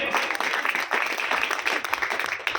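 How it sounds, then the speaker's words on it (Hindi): Dense crowd applause at a Hindi poetry gathering, a steady wash of many hands clapping at moderate volume throughout, with a faint voice briefly underneath. "इस मंच के लिए एक बार आप तालियां बजाइए।"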